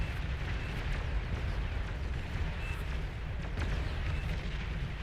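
A commander unit blowing up in the real-time strategy game Beyond All Reason, heard as a loud, dense, continuous rumbling roar that holds steady for the whole stretch without separate booms.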